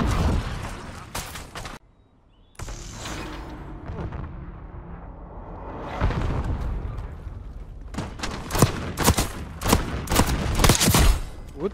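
Bursts of rapid gunfire crackle and boom in Call of Duty: Black Ops 6, sharp repeated shots clustering toward the end, with a quiet gap early on and no clear talk.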